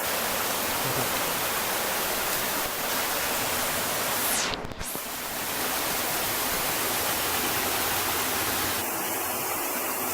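Steady, loud broadband rush of a stream flowing through drainage beneath a temple at Wat Mae Kampong, Chiang Mai, continuous throughout with a brief dip midway and a faint tone near the end.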